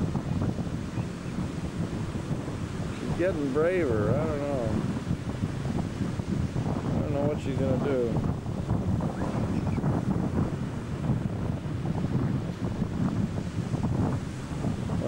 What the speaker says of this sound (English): Don't you love the sound of the surf, folks?